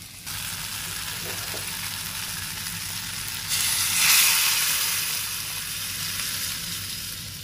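Hot tempering poured into drumstick leaves sambar sets off a loud, steady sizzle and bubbling hiss that swells briefly, then continues evenly without any talk.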